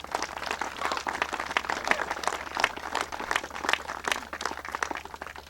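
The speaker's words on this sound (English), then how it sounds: "You all deserve a great welcome and a great round of applause." Outdoor crowd at an annual harbor beach cleanup event in Oyster Bay applauding volunteers: a moderate, steady patter of many hands clapping with some louder individual claps, a low hum beneath, and no speech.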